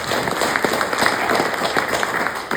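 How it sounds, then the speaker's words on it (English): Audience at a mayor's annual Christmas address breaks into steady applause, dense clapping filling the room for a few seconds without speech over it. "Please give them a round of applause."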